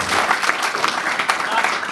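Applause at an UMNO Youth delegates' meeting in Raub, Pahang, greeting Datuk Sudi: a steady, dense wash of clapping from a gathered audience that fills the short moment evenly from start to finish.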